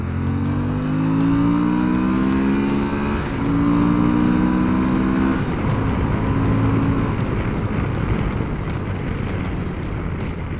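A 2021 Suzuki V-Strom 1050 XT motorcycle accelerates hard through the gears, its engine rising in pitch, dropping at shifts and climbing again, loud and close under steady wind roar.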